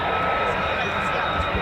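A fighter jet, an F-15 or F-35 of the 48th Fighter Wing, departs RAF Lakenheath, a steady loud broadband roar holding level throughout the short stretch.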